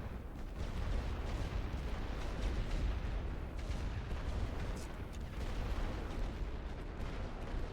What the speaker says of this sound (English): Just gonna delete this company with artillery.